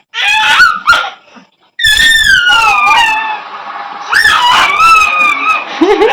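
A puppy lets out high, wavering whimpers and yelping cries, loud and close, in several drawn-out bursts separated by brief silences.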